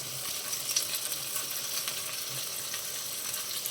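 Green chillies fry in hot oil in a pan alongside onions, cumin and dried red chillies, giving a steady, fairly faint sizzle with small crackles throughout.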